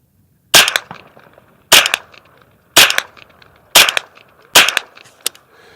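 Five evenly spaced sharp rifle shots through a Hot Link suppressor from White Label Armory, each a crisp loud crack with a short tail, fired at roughly one-second intervals outdoors.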